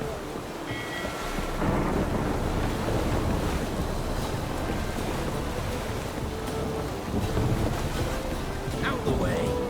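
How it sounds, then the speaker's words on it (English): A thunderstorm in The Witcher 3 rumbles with heavy wind and rain-like roar, loud and continuous with rolling low thunder throughout. "The storm, damn it."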